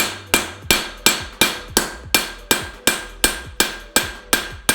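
Steady, evenly spaced hammer blows ring on the face of an anvil while a horseshoe's toe is shaped, about a dozen sharp, loud metallic strikes in a regular rhythm.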